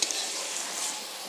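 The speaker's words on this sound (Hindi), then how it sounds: "ये आप देख सकते हैं प्याज थोड़ी थोड़ी फ्राई हो गई है।" Onions frying in a pan for Punjabi-style rajma masala give a brief, steady, close hiss of sizzling oil.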